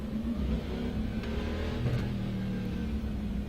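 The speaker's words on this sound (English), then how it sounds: "We'll drive the car out onto a section of track" A Cadillac CTS-V driven onto the track in the iRacing sim, its engine droning steadily at moderate volume with a brief rise in revs, heard from the cockpit view.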